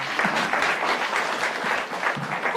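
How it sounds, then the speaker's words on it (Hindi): Audience applause at a live comedy escape-room show, a steady burst of clapping from a crowd that fills the whole moment without speech. "एक बार तालियां बजाइए इसके लिए"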